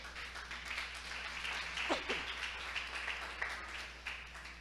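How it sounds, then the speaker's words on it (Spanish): A church congregation applauds, a soft, diffuse patter of many hands clapping in a hall, steady and faint with a brief voice rising through it. "¿Cuántos le aplauden al Señor?"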